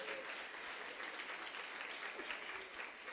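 A church congregation gives a round of applause to the Lord, a soft, dense patter of many hands clapping steadily, heard from some distance throughout.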